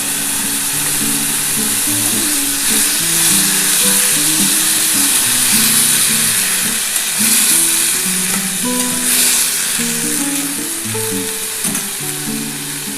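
Bitter gourd, eggplant and potato sizzle loudly in a pan after a splash of water, a dense, steady hiss with stirring scrapes and a rhythmic mechanical hum running beneath.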